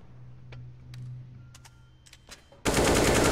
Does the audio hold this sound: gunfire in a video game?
yes